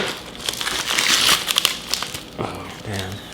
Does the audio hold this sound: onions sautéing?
no